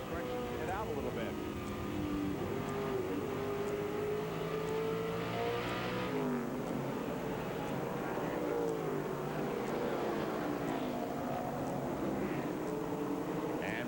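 NASCAR Winston West stock cars racing at Tucson in 1998, engines droning and shifting pitch as they pass, with a continuous roar of cars on track under steady commentary.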